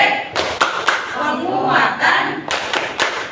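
A classroom of students does a rhythmic group clap chant, sharp clap bursts in a patterned beat mixed with chanting voices, close and fairly loud.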